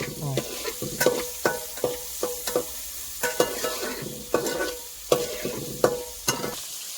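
Okra sautéing with a little turmeric powder in a pan makes a soft sizzle under frequent, rhythmic spatula scrapes and clacks against the metal, close by and fairly quiet.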